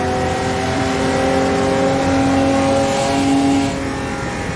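Car lapping a race track in a driving game, a steady close engine drone holding pitch with a brief rise in revs, then easing off near the end, with no talking.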